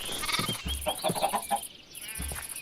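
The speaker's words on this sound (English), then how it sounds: "Oh my gosh, it's a blue chicken!" Minecraft blue chicken variant clucking in a few short, clipped bursts over steady game background music, the calls close and moderately loud with brief gaps between them.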